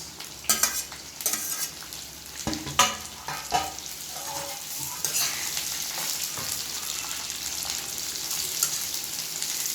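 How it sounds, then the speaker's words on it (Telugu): Chopped onions and green chilli fry in a hot pan with constant close sizzling, punctuated by several sharp scrapes and clinks of a stirring utensil against the pan, no talking. "ఇప్పుడు కొంచెం green chilli కూరాక after that we have to add chopped onions."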